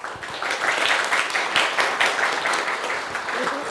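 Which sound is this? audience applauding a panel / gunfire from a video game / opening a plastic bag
audience applauding a panel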